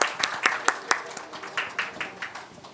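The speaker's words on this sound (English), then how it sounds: "Let's applaud everyone." An audience at a healthcare awards conference claps in a short round of applause, with individual claps distinct and fairly close, fading a little toward the end.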